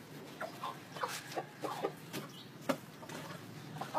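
A rooster, roughly fourteen years old, clucks in a series of short close calls with brief pauses between them, fairly quiet with no talk over it.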